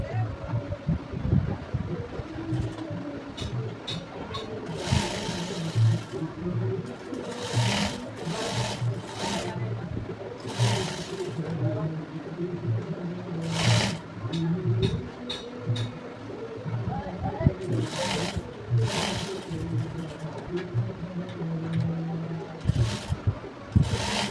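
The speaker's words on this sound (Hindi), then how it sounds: "अब पलटी करने के बाद हम पूरे ब्लाउज इस तरह से सिलाई लगा लेंगे।" A sewing machine stitches a blouse in bursts of rapid mechanical whirring that start and stop repeatedly, close and fairly loud, with a voice talking between and over the runs.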